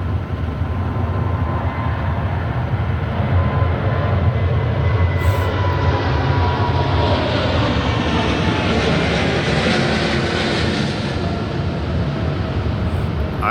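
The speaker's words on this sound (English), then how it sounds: "oh my god, here comes a plane." A plane passes near an airport in Houston, a loud steady broadband engine roar that swells and holds for the whole stretch, with no talk over it.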